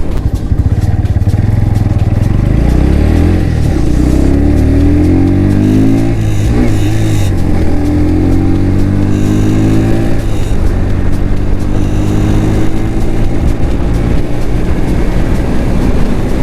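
Bajaj Pulsar NS 125 motorcycle cruising steadily on a highway during a long solo ride, its engine drone loud and constant, mixed with heavy wind rush and no talking.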